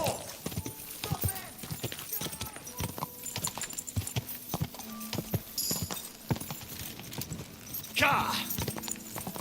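Hooves clip-clop steadily in the video game Kingdom Come: Deliverance II over noisy game sounds and shouting voices, with a brief horse whinny near the end.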